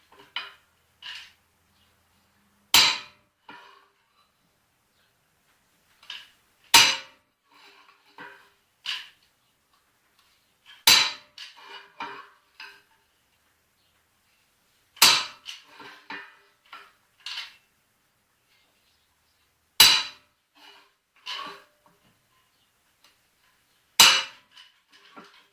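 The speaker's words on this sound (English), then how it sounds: "I'm going to use punch" A hammer strikes a center punch to mark a router table insert. Six sharp metallic taps land at a slow, steady pace, close and bright, and lighter clinks and handling noises fall between them.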